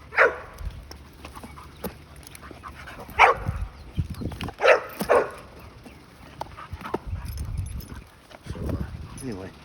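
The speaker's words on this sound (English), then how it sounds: "got the dogs out of the kennels and let them get some exercise" Dogs out of their kennels for exercise with a flirt pole give several sharp, loud barks in scattered bursts, close by outdoors, with thumping movement and some muffled voice between them.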